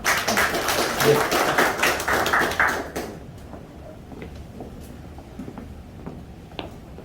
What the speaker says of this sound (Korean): 원장님이나 유동기 회장님에 대해서 감사의 박수 한번 보내주시면 좋겠습니다